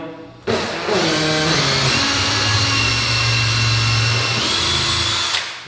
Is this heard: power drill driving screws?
yes